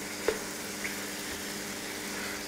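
Minced meat sizzles in a frying pan with onion, carrot and mushrooms, a soft steady crackle with a brief tap of utensil on pan near the start, quiet and close, with no voices.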